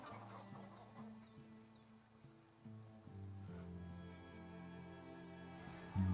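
Hens cluck around a chicken coop in the farming strategy game Farthest Frontier, a series of short repeated clucks and rooster-like calls over a soft background of waves and birds, growing busier toward the end.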